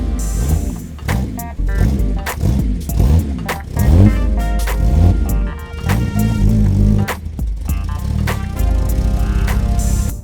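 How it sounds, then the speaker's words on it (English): A 1953 Jaguar C-Type pulls away, its engine revving in a run of rising and falling surges that sound loud and close before settling into a steadier drone. "Pulling out from behind me is a 1953 Jaguar C-Type."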